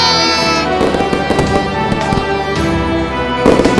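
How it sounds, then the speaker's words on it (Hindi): Diwali firecrackers and fireworks bursting outdoors, a loud crackling series of pops and bangs over a background of music, with a sharper cluster of bursts near the end. "देख मैं तेरे लिए कितने सारे पटाखे लाया हूँ"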